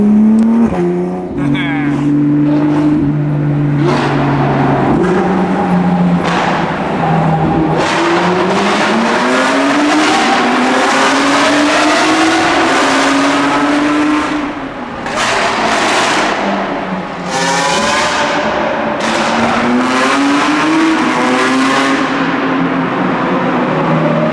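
A Porsche 992 GT3 RS is driven hard on mountain roads. Its engine screams close up, rising and falling through high revs, with repeated climbs and quick shifts across the whole stretch.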